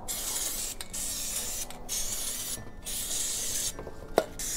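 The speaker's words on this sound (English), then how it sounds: "the chain cleaner I'm gonna be using is the Maxima Cleanup Chain Cleaner" Maxima Clean Up chain cleaner is sprayed onto the chain of a 2021 Yamaha TW200 motorcycle with cardboard held behind it: a loud, close, hissing aerosol spray in long bursts broken by four short pauses.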